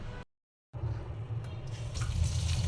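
Tap water splashes steadily into a perforated bowl of freshly picked moringa leaves being washed. The flow cuts out briefly near the start, then returns with a close, rushing splash that grows a little fuller; no voices.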